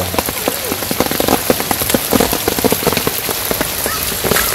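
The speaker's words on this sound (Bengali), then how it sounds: "তারপর একটু বৃষ্টি নামছে" Steady rain falls in a rural village during the rainy season, a dense continuous patter of drops hitting surfaces close by, with occasional sharper splashes and no voices.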